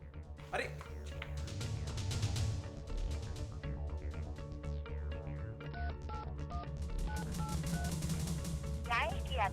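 Several short tonal beeps of a phone number being dialed, mixed with electronic chirps and tones over a muffled background.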